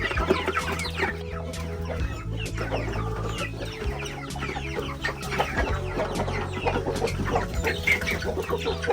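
Chickens cluck steadily in a poultry pen at a Filipino farm, with overlapping birds close by and a constant busy background of fowl noise throughout.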